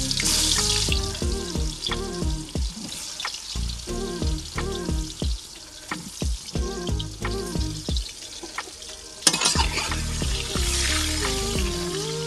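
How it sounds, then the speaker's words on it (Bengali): Banana pieces dusted with turmeric sputter and crackle as they fry in hot oil. A steady hiss runs under repeated bubbling pops, and a louder burst of sizzle comes near the end. "গরম তেলে কলাগুলোকে দিয়ে দিই।"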